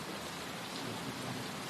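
Steady rain falls in a dense, even hiss on the surfaces nearby, alone and unchanging.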